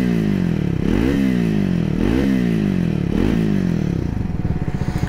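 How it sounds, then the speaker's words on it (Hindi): Triumph Speed 400 motorcycle engine revved repeatedly, the exhaust note rising and falling in three or four regular blips, close and loud with no voices. "और अगर मैं एग्जॉस्ट नोट की बात करूँ तो आई गेस आपको सुनाई दे जाएगा।"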